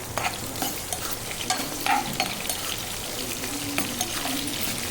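Onions sizzling in a kadai with a mustard seed, cumin, chana dal and urad dal tempering, a close steady crackle broken by repeated scraping stirs of a spatula, with no voices.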